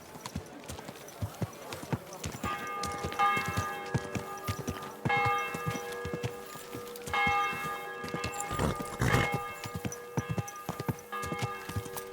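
Horse hooves clip-clopping at a steady walk in the medieval game Kingdom Come Deliverance 2, regular close hoofbeats throughout, joined by ringing church bells in the background and occasional voices speaking.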